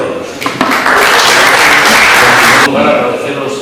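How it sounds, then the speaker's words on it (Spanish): Audience applause at a talk on banditry in Novelda, Spain, a dense, loud burst of clapping that swells and holds steady for a few seconds before tapering, with a brief voice at the start. "Un aplauso para ellos."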